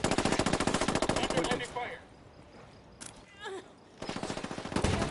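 Rapid automatic gunfire in a first-person shooter match, two loud bursts of fast repeated shots at the start and end separated by a quieter gap with brief voice chatter from players.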